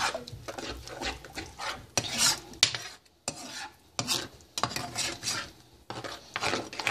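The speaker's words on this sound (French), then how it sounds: "Je vais brasser de temps en temps et on va laisser nos œufs cuits." A utensil scrapes and stirs avocado scrambled eggs in a pan in repeated, uneven strokes with short pauses, fairly close and moderately quiet, with no talking.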